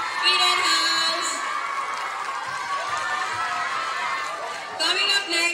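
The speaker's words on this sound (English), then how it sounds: "Starting with Color House, please give a round of applause." Students at a school quiz competition cheer and shout for their houses, a loud, sustained crowd roar with whoops and chatter that swells again near the end.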